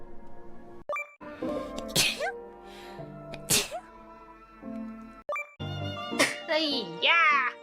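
Streamers in a compilation sneeze a few times, loud and close, with chatter and small game sounds around them.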